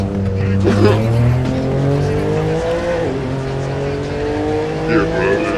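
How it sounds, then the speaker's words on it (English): Cars driving past at night, a steady loud engine and road roar with rising and falling tones and a faint tire squeal, with voices talking over it. "Cars."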